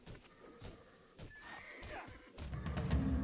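A horse in a video game whinnies in a clear rising and falling neigh, with hoof clip-clops and a growing rumble of game noise underneath.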